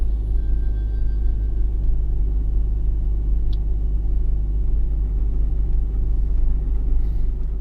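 A 1996 Jeep Grand Cherokee ZJ engine idling steadily, a loud, even low rumble held for several seconds with no talk.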